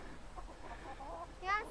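Chickens in a yard give soft, low clucks and a brief sharper squawk near the end, faint and close to the ground, with no talking over them.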